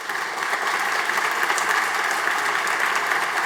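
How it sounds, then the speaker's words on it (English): Sustained, dense applause from a large audience at a 2022 university commencement ceremony, holding steady and fairly loud from start to finish. "Please let's give them a hearty round of applause."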